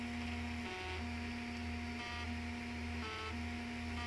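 A 3D printer at work as its extruder moves, with steady stepper-motor whines that shift pitch in short repeating segments over a constant mechanical hum and fan noise, close and continuous.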